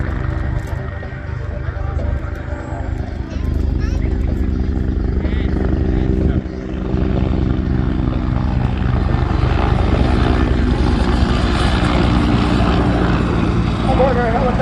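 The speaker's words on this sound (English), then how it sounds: "You can see now that our Griffin helicopter is tracking in to show center." A Griffin helicopter flies at an air show in Debert, its steady, loud rotor and engine drone filling the clip with a brief dip midway; an announcer's voice sounds faintly over the aircraft noise.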